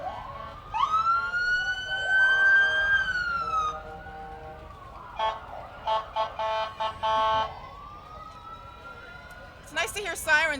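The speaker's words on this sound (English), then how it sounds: "It's nice to hear sirens for good things." Emergency vehicle sirens at a community day parade, rising and falling wails followed by short, choppy whoops and bursts, fairly close, with faint background chatter.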